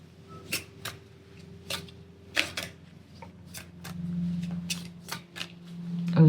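Moonology Oracle cards being shuffled close by for a tarot reading: a run of crisp, papery riffles and snaps at an irregular pace over a faint low hum, with no voice.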